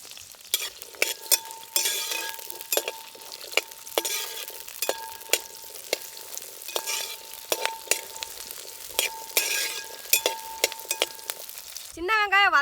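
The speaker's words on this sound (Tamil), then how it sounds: "சின்ன வெங்காயம் வதங்கிட்டே இருக்குங்க." Shallots and curry leaves fry in hot oil for a milk fish curry, giving a steady close sizzle broken by frequent sharp clinks of a stirring spoon against the pan, alone with no talk.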